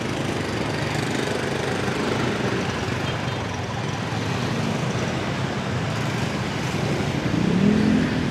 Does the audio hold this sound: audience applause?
no